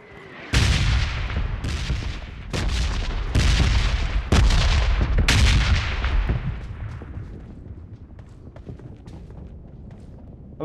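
Heavy bombardment explosions in a PUBG battle royale match on the Erangel map: several loud, deep booms in quick succession over the first six seconds, then a rumbling decay into quieter background.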